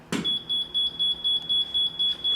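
A laser level receiver beeps rapidly and evenly when the beam strikes it, a shrill high tone pulsing about five times a second after a short opening thump, close and clear.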